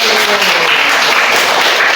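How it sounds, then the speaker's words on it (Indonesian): Classroom applause rising right after a teacher's praise for a student, dense steady clapping from a group of children filling the whole stretch, fairly loud and close with no pauses. "Tepuk tangan buat kamu."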